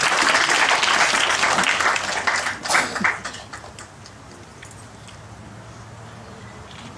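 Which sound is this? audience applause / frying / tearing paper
audience applause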